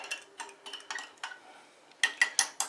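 A spoon stirring a homemade ginger beer bug in a jar, giving a series of light clinks and taps against the glass, a few soft ones and then four brighter, louder clinks close by.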